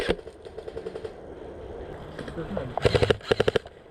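Airsoft guns firing during an outdoor skirmish, with bursts of rapid sharp clicking shots, the loudest near the end, while players call out to each other.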